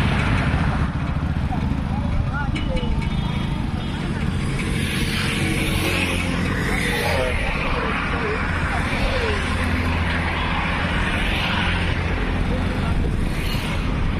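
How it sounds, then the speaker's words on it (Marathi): An Indian Agro two-wheeler motorcycle trolley with reverse, forward and hydraulic dumping runs outdoors, its engine giving a continuous low rumble with wind buffeting, while people talk over it. "Indian agro two wheeler motorcycle bike trolley reverse forward आणि हायड्रॉलिक डम्पिंग बाईक ट्रॉली"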